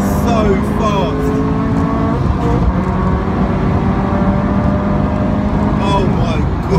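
A supercharged Subaru BRZ driven fast, its engine droning loud and steady close by with shifting tonal whine, while someone talks over it throughout.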